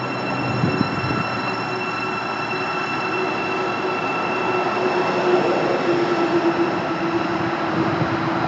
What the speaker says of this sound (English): departing is the service to St Albans City